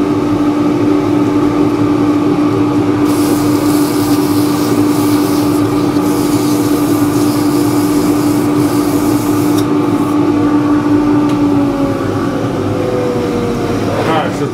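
A dust extractor runs in a woodturning workshop, a loud, steady droning hum that holds for the whole stretch before its pitch sags near the end as the machine starts winding down.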